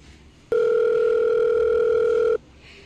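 A loud, steady telephone dial tone sounds while a call is being placed, starting abruptly, holding an unbroken pitched hum for nearly two seconds, then cutting off to quiet room noise.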